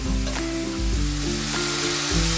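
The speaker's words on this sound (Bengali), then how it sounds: "মশলাটা আমি দিয়ে দেবো তেলের মধ্যে দিয়ে খুব ভালো করে মশলাটা আমি কষিয়ে নেব" Spice paste sizzling and frying in hot oil as it is sautéed for an eggplant and hilsa fish curry, a loud steady hiss with occasional stirring scrapes, close up and without talk.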